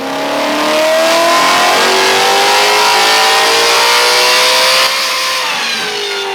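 A Ford Mustang GT350 with a custom exhaust, running on E85 fuel and strapped to a dyno, revs loudly and up close. Its pitch climbs steadily through a long wide-open pull, then drops off near the end.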